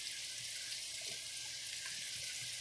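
A splash of wine poured into a hot cooking pan makes a steady, even hiss that lasts throughout, fairly quiet and close, with no voices.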